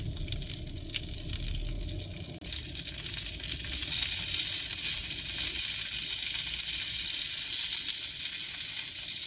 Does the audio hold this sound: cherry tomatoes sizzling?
yes